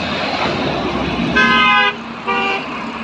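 Traffic along the Dhaka–Mymensingh highway, a steady roar of passing vehicles broken by two loud car horn toots, the first longer and the second shorter, fairly close.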